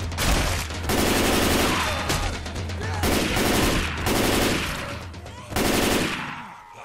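Rapid automatic gunfire from the zombie shooter Left 4 Dead 2, several sustained loud bursts in a row with short breaks between them, up close and dominating the mix.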